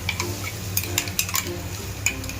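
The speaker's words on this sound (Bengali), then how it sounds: "10-15 মিনিট ভালো করে ভেজে নেবো মশলাটা।" Onions, tomato and spices sizzle in a pan for a parshe (mullet) fish curry, with repeated spatula scrapes and light metal clinks over a steady frying hiss.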